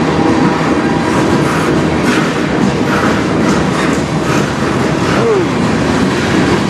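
A CN freight train rolls past loud and close in a steady roar of wheels and cars, with faint clicks and thumps on a windy, cold day in Sarnia, Ontario.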